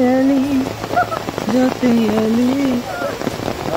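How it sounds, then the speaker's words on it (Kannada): Heavy monsoon rain falls steadily on the fields around Mangalore, a constant patter beneath a person talking close by. "ಯಾಕಂದರೆ ಮಳೆ ಸಿಂಪಲ್ ಮಳೆ ಅಲ್ಲ, ಇಲ್ಲಿ ತುಂಬ ಹೆವಿಯಾಗಿ ಬರುತ್ತೆ."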